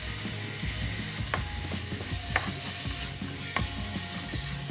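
Tomato paste fries in a pan for chicken biryani, a steady close sizzle with bubbling and a few sharp stirring clicks and scrapes throughout.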